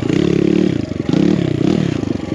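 A BBR KLX170RF dirt bike labours up a loose, dusty hill, its engine loud and close with a steady pulsing drone, a brief dip in the middle, then a surge as it pushes on.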